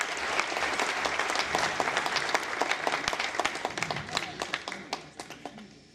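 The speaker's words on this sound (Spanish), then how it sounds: "Un aplauso para él." Audience at a congress in Capilla del Monte, Argentina, applauding warmly: dense sustained clapping with sharper individual claps, tapering off toward the end.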